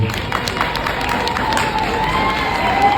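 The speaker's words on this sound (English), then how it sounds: "give a rousing applause for the leader who is sitting next to you" An audience gives rousing applause, a dense, continuous wash of clapping with scattered cheers and shouts, loud and steady throughout.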